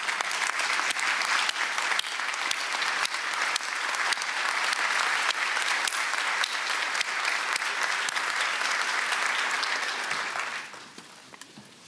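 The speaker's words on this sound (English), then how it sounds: "So could our faculty please rise and get our applause?" Faculty members at a college commencement ceremony receive sustained audience applause, dense and steady for about ten seconds before tapering off quickly at the end.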